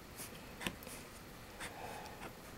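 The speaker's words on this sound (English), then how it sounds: "I'm just going to take my marker and I'm going to run up these lines that we made for the veins." A marker is run along stylus-scored vein lines on paper autumn leaves, giving faint, soft scratchy strokes in short separate bursts against quiet background hiss.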